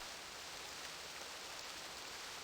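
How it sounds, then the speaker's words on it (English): Rain falls steadily in the game realMyst, a faint, even hiss with no breaks, no drops standing out and no voices. "It is raining here in this age that used to never get rain."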